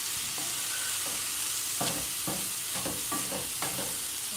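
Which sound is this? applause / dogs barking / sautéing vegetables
sautéing vegetables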